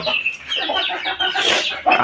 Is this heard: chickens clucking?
yes